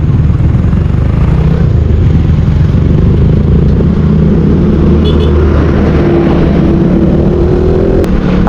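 A group of four motorcycles on a road outing makes a loud, steady low engine rumble with a faint rising whine near the end, recorded close from among the riders with wind buffeting.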